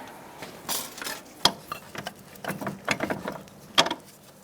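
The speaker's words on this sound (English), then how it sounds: "And now I'm going to get my bolt started through." Light metallic clinks and taps as a bolt is started through a front strut and spring assembly on a 2002-2006 Toyota Camry, a few sharp ticks scattered among soft scraping handling noises, close by.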